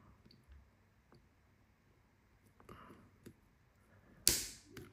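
A Samsung Galaxy A14 phone's back cover is pried open with faint plastic clicks and taps close by, ending in one sharp, loud snap as a corner clip releases.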